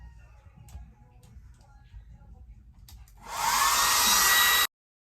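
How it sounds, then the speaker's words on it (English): A hair dryer blow-dries a freshly installed wig, roaring on loud and close for about a second and a half after quieter handling sounds, then cutting off abruptly. "we're gonna blow dry this right here"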